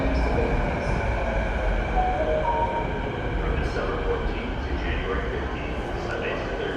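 Metro train rolling into a Richmond-bound outbound station platform, a steady loud rumble of wheels and carriages filling the space with faint squeals on top and people talking over it throughout.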